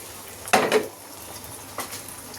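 Beaten eggs with onion, chilli and salt hitting hot oil in a pan: a short, bright splash and sizzle up close, fading into a quiet hiss with a faint second scrape near the end.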